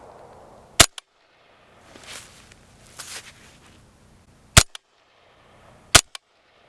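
Suppressed AR5-SD rifle firing subsonic rounds, three sharp muffled pops spaced a couple of seconds apart with small clicks of the action, close by, with quiet rustling between shots.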